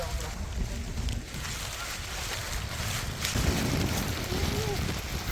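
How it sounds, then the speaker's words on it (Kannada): Strong monsoon wind in the Malenadu hills of Chikmagalur, a loud, gusty roar buffeting the microphone with rumbling low gusts that swell and ease throughout. "ಮಸ್ತ್ ಗಾಳಿ, ಜೋರು ಗಾಳಿ."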